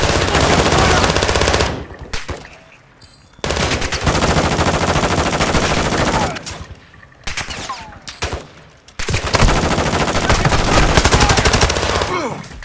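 Loud, close machine gun fire in Call of Duty DMZ, long sustained automatic bursts broken by short pauses, with scattered single shots between the volleys.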